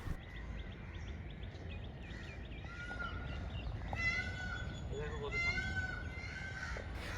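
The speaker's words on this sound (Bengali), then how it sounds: "আর আওয়াজে মনে হচ্ছে আরও ময়ূর আছে।" Peacock calls ring out repeatedly along a road near Kanyakumari, loud nasal wails at mid distance over a steady outdoor background, with no talk in the moment.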